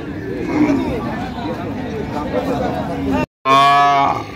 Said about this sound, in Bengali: চলেন ওই গরুগুলো দেখি একটু, কুমিল্লার ভাই গরুগুলো।